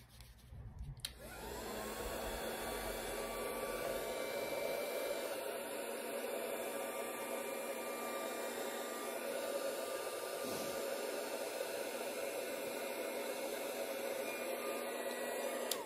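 A hair dryer drying handmade flowers switches on and blows with a steady, close, continuous whooshing hum that holds evenly for over a dozen seconds.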